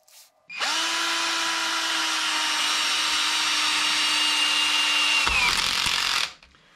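A 12V cordless screwdriver drives a screw into wood at a high torque setting, whirring steadily and loudly for about five seconds, then ratcheting briefly as the clutch slips before stopping.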